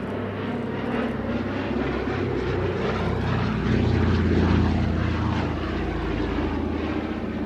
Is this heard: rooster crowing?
no